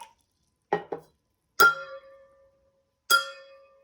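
Glasses holding water are tapped, giving a couple of dull knocks and then two clear ringing tones that linger and fade, one after another.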